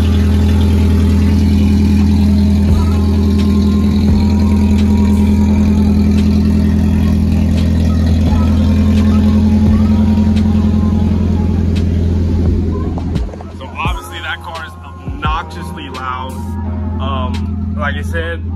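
A Nissan 240SX engine with long tube headers idles with a deep, throaty rumble for several seconds, then quiets as a person starts talking over it.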